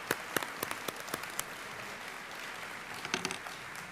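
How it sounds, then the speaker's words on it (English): A convocation audience applauding recipients of the Trustees Lifelong Learning Awards, steady dense clapping throughout with a few sharper individual claps standing out. "let's give another round of applause to all of our recipients of the Trustees Lifelong Learning Awards"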